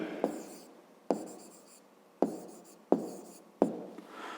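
Handwriting during a fifth-grade maths exercise on a rectangle, heard as five sharp pen or chalk strokes, each a quick tap followed by a short scratchy trail, spaced about a second apart, close and fairly quiet.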